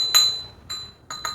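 A heavy real crystal decanter is tapped four times, each strike giving a bright, high ringing note that decays quickly, close and clear with no voices.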